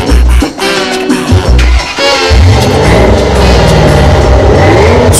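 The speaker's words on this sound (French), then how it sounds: "C'est le son d'un énorme moteur V8, puissant et gourmand, la spécialité aux États-Unis." A huge American V8 roars close and loud, with deep pulsing bursts at the start before a sustained, rising rev that fills the rest of the stretch.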